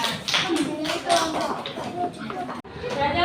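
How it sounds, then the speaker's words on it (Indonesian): A primary school class claps hands, a loose burst of uneven, nearby clapping with a voice speaking over it. "Tepuk tangan"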